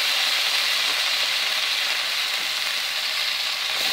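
Tomato pieces frying in a hot pan, a loud continuous hiss of sizzling oil held close and steady throughout, with no voices.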